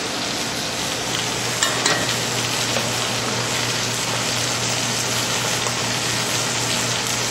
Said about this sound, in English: My sauce is starting to come to a boil. And now I'm going to add the tomatoes to it.